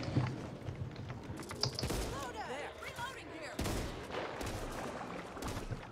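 Scattered gunshots and clattering combat noise in Back 4 Blood on Nightmare difficulty in an abandoned area, fairly quiet and broken up, with players talking over it.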